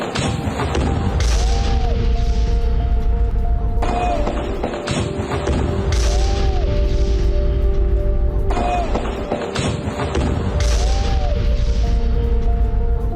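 Repeated heavy booms from a missile strike on a Hamas building in Jabalia, several loud blasts recurring at intervals of a few seconds, each ringing out over a continuous rumbling roar.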